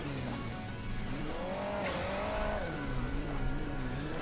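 A vehicle drives in the Hill Climb Racing 2 mobile game, its engine droning steadily with pitch that swells and dips as it climbs, and a faint tire squeal, all alone without voices.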